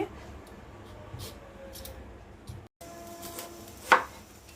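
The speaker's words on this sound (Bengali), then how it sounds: "পেঁপেটা আমি পিস পিস করে কেটে নিব।" A knife chops papaya into pieces on a board in a home kitchen, with a series of soft, irregular cutting taps and one sharper knock near the end, close and clear without talk.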